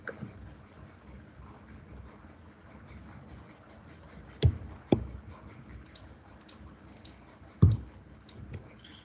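Three sharp mouse clicks confirm an entry in SAP software, spaced apart over a quiet background with faint room noise.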